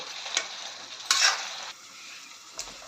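Chicken keema masala stirred in a pan over a soft sizzle, with a few sharp scraping spoon strokes against the pan across three seconds, close and clear, no voices.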